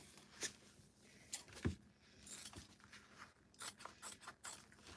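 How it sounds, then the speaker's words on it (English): Scissors cutting a fabric scrap in half for bag making, a few quiet crisp snips and rustles of cloth close by, soft and intermittent with no talk. "Let me cut this in half."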